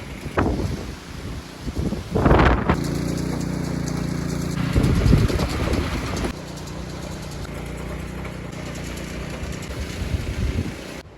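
A 24-inch-wide tiller engine runs steadily with a loud mechanical drone and gusty wind noise, tearing up a clover plot; the pitch shifts as the load changes partway through.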